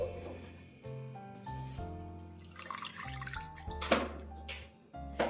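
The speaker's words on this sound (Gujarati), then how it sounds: "એને હાથની મદદથી બધું પાણી આ રીતે રિમૂવ કરી અને એડ કરી દેશું" Water is squeezed by hand from chopped coriander leaves that were soaked in water for sandwich green chutney, giving soft splashing and dripping close by under steady background music.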